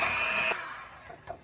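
Electric mixer beaters creaming cookie dough whine steadily with a high motor tone for about half a second, then cut off, leaving only faint clatter.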